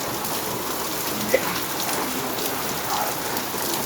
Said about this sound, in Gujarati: વરસાદ ફૂલ ચાલુ થઈ ગયો,